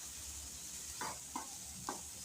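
Spiced curry with turmeric, salt, chilli powder and masala being stirred in a pan, three short scraping strokes over a steady background hiss.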